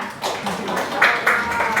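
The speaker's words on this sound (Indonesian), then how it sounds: "Tepuk tangan untuk temannya." A small group of students in a classroom claps for a classmate, a brief, uneven burst of hand claps that swells in a few loose waves, close by and moderately loud.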